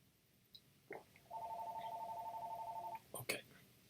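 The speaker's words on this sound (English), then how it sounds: "Who is calling on the phone?" A telephone rings with a single sustained electronic trill lasting about two seconds, faint and close, framed by soft clicks and a brief whisper-like sound.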